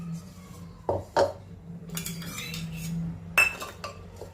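Thick yogurt being spread around the inside of a clay pot with a spatula for shrikhand, giving a few short scraping clinks and soft smears over a low steady hum, with no voices.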